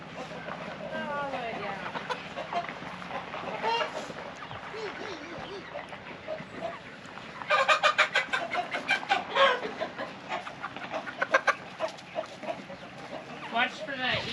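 Chickens cluck steadily at an Alaskan homestead as they are let outside, with a burst of busier, louder clucking midway, while people talk nearby throughout.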